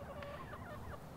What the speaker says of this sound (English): the chickens are in here having a blast